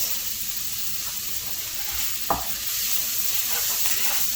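Hot bacon grease sizzling in a pan as mushrooms are stirred through it, a dense, even hiss that carries on throughout with one brief scrape of the spoon near the middle, close up and without voices.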